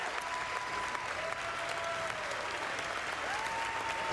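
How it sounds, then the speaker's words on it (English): Steady, dense applause from a large audience at the State of the Union address fills the whole stretch, loud and continuous with no voices rising above it. "Does everyone clap or are the Republicans silent?"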